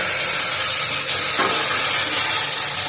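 Flat beans (shim) frying in a pan for a winter vegetable curry, a steady loud sizzling hiss running throughout with no break.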